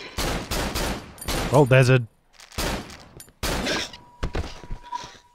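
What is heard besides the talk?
gunshots fired in the video game Cry of Fear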